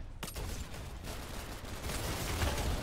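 Rapid bursts of gunfire in a Roblox shooter game, dense repeated shots running almost continuously, fairly quiet and distant-sounding, with no talk over it.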